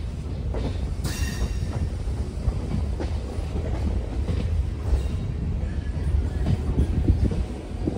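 Passenger train running from Bangalore toward Nandi Hills, a loud continuous rumble of rolling wheels with rhythmic rail clatter and a brief squeal, heard from on board.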